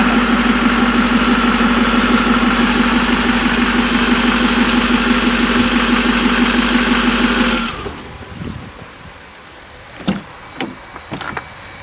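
A 6.6 Duramax diesel engine fitted in a Jeep Wrangler runs rough and loud for about eight seconds with a dense clattering drone, then cuts off, leaving a quieter background with a few sharp knocks and clunks nearby.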